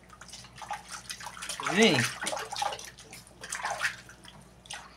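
Water runs and splashes steadily while a small dog gets a bath at home, with someone talking softly over it.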